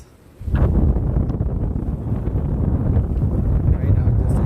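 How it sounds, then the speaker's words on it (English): Strong wind on Diani beach on the Kenyan coast of the Indian Ocean buffets the microphone, a loud low rumbling roar that starts abruptly and then blows steadily without a break. "The breeze feels awesome. Probably you can hear it. The mic is picking it up."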